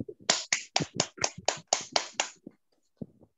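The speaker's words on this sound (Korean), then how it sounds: "박수 한번 부탁드리겠습니다" Applause at a corporate sales meeting, heard as a short burst of about nine sharp, evenly spaced claps that stop abruptly, followed by a single faint clap.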